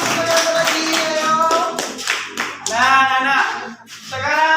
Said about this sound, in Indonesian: tepuk tangan untuk Salman.